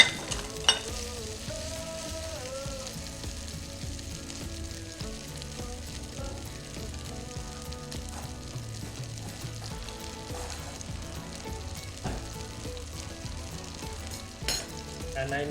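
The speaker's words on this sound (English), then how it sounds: "I have some oil in there already. I'm gonna place my whole piece of seitan, and then the shredded one next to it." Seitan pieces frying in hot oil in a pan, a steady dense sizzle and crackle running continuously, close by, with faint background music underneath.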